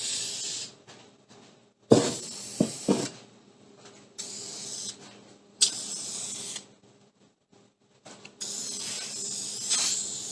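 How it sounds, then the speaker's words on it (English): Bursts of aerosol lacquer sealant sprayed onto a torched wooden sign, a close, loud hiss coming in several separate blasts of one to two seconds with quiet gaps between. "And a little lacquer to lock it in."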